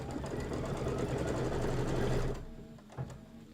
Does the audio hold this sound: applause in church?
no